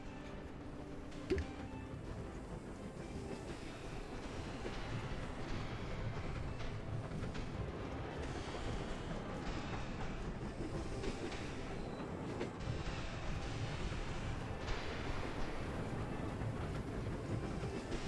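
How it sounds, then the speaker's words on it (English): A train in the video game Belts of Iron runs continuously with a steady rolling rumble and faint rhythmic clatter, moderately loud and without speech. "Mr. Choo Choo Train."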